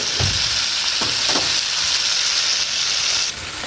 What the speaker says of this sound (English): while the steak is searing in the pan